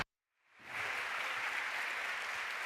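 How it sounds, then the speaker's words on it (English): Conference audience breaks into applause after a moment of silence, the clapping rising quickly into a loud, dense, sustained ovation that carries on to the end. "A round of applause, please."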